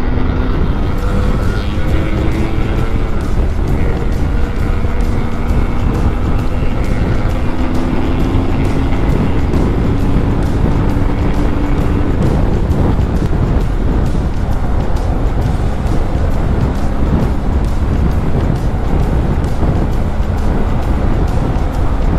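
BMW 1300 GS motorcycle with Option 719 exhaust ridden on an expressway, a loud continuous engine roar mixed with heavy wind rush, steady throughout with slight pitch changes as the bike holds speed.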